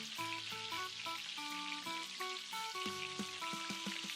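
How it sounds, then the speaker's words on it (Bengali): Lentil batter fries in hot white oil in a kadai for dahi bora, crackling and sizzling steadily and close by, while faint music with clear melodic tones plays underneath. "তেল গরম হলে এভাবে ফেটিয়ে রাখা ডালের মিশ্রণ দিয়ে দেব।"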